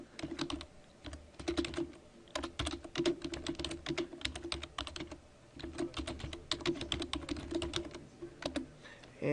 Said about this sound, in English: I'm going to go ahead and type some information down here for the subtitle